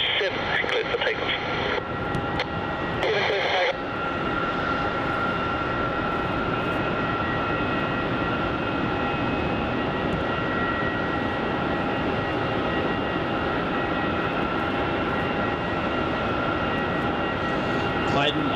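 A Qantas airliner takes off at Melbourne Airport with a steady, loud engine roar and high whine that holds throughout, while a voice talks over it.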